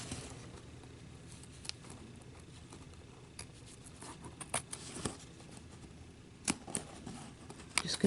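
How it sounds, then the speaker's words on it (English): Detail scissors cutting paper make scattered, faint snipping clicks, quiet at first and then a few sharper snips over a soft background hiss. "I'm going to take my detail scissors and I'm just going to cut around it."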